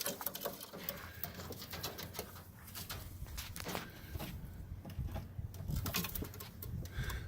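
Pigeons coo softly in a settling cage where a pedigree homer pair sit on eggs, low murmuring coos running steadily under light shuffling, pattering movement and scattered scratchy rustles throughout.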